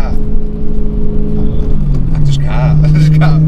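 A supercharged BMW E92 M3 V8 with an ESS kit pulls hard, its engine note rising in pitch as it accelerates, with a faint supercharger whine on top and people talking over it.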